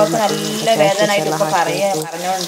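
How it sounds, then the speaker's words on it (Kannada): Onions and garam masala sizzle in hot oil in a pan for ghee rice, a continuous fry heard close up under a voice talking. "ನೀರುಳ್ಳಿಯನ್ನು ಹಾಕಿ ಫ್ರೈ ಮಾಡಿ ಅದೇ ಎಣ್ಣೆಗೆ ನೀರನ್ನು ಹಾಕಿ"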